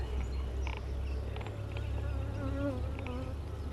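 Honey bees buzz around an open hive outdoors in a continuous, layered hum, with single bees droning close now and then.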